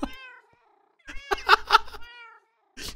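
Several cats in the Minecraft video game meow in a row, with clear harmonic calls clustered in the middle of the clip and another starting at the end, loud and close with no talk.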